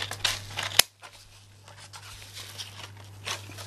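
Scissors cut straight through card paper for a handmade shaker card, a sharp snip near the start followed by soft, close rustling and slicing sounds over a steady low hum.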